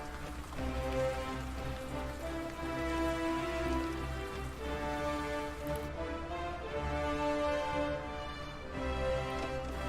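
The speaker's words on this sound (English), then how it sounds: "We've got a bit of rain coming down now." Rain patters in the medieval strategy game Medieval Kingdom Wars, a faint wash of drops under steady, layered game music.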